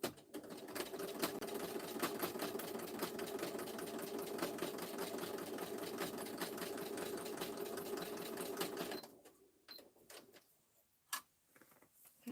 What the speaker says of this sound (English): I'm going to stitch just a line down here